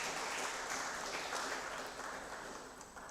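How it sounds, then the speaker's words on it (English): Audience applause closing a conference panel on cooking fuels and climate change, a steady broadband patter of clapping at moderate distance that holds for the whole stretch and fades slightly toward the end. "Kindly extend a round of applause to our presenters and reviewers."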